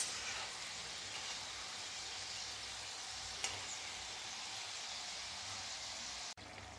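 Kadboli, a crisp Diwali snack, deep-frying in hot oil: a steady, quiet sizzle that holds evenly throughout and then cuts off abruptly near the end.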